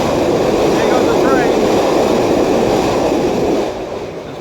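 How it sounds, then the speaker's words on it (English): A train rumbles past at close range, a loud, broad, continuous roar that holds steady and then eases off slightly at the end. "there goes the train"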